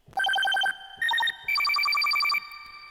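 Bright 8-bit style synth lead with a very fast arpeggiator, with no auto filter, rattling off rapid chiptune-like note runs in three loud bursts with short gaps between them.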